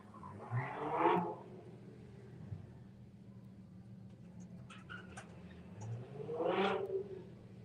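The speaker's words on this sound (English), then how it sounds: "Very, very nice Toyota Supra from EKS Tuning." A tuned Toyota Supra from EKS Tuning at a track test day is heard as two separate engine swells, each rising and fading as it passes at a moderate distance, with a quieter lull between them.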